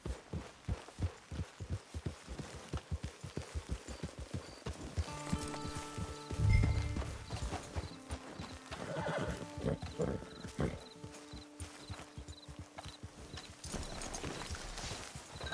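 A horse gallops in Red Dead Online, its hooves clip-clopping in a fast, steady rhythm before it lets out a loud whinny midway, with hoofbeats continuing beneath faint music.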